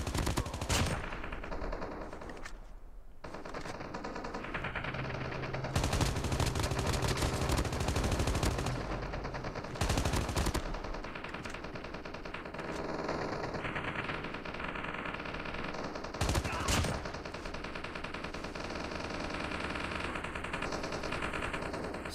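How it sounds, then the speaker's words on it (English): Rapid automatic gunfire in Call of Duty Mobile on the Alcatraz map, with dense bursts of many overlapping shots that run almost continuously and loudly, interrupted by a brief lull, with no talking over it. "So many gunshots, holy."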